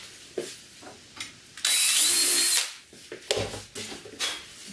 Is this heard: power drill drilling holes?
yes